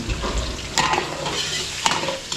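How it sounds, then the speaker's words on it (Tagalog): Garlic and onion sauté in a pan at a catering resort kitchen, with a steady close sizzle under repeated stirring scrapes and two sharper utensil knocks; no one speaks. "Bawang sibuyas, right? bawang, sibuyas, gigisa natin to."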